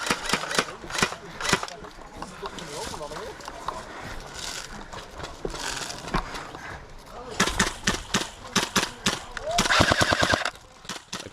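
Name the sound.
airsoft SA-249 LMG firing shots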